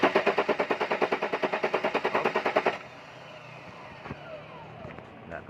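Starter cranking the engine of a Mercedes W124 with a fuel distributor problem, a fast, steady, chugging rhythm, close and loud for nearly three seconds before it cuts off, leaving quiet workshop background.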